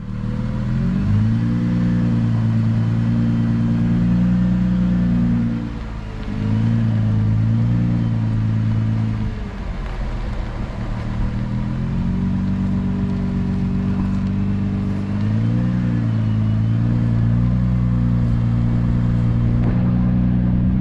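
Engine of a 2020 Nissan GT-R rising and falling through several revs while driving, a loud, close mid-pitched drone with dips between pulls, no talking.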